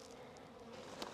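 Honey bees around a hive during a hive install, a soft continuous buzzing drone heard at low level, alone and without talk.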